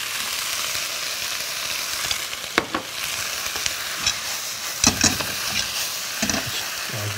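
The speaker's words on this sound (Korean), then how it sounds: "삼겹살을 넣어서 볶아줍니다." Pork belly stir-fried in a pan at home, a dense constant sizzle with occasional clicks and scrapes of a utensil, close and fairly loud, no talking over it.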